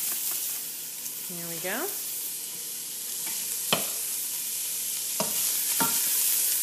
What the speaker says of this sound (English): Go ahead and add my onions to the oil.